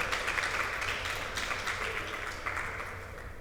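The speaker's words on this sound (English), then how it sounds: "Clap it up for my mom." Audience at a book launch applauds an author, a steady wash of clapping from many hands that holds at an even level for several seconds.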